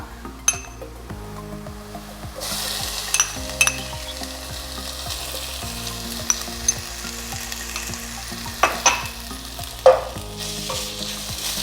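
Ginger, garlic and green chilli paste sautés with browned onions for a vegetable biriyani, sizzling continuously in the pan with frequent clinks and scrapes of a spoon stirring against the metal, close and steady.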